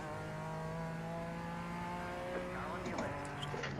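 An LMP3 prototype race car in a racing game set at Daytona, its engine a steady, loud, high-revving drone, with a second rising whine creeping in near the end as another car closes in.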